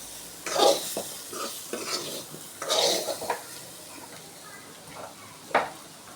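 A spoon scrapes and stirs yam fry with chili powder in a pan, producing several distinct scraping strokes at irregular intervals over a quiet background.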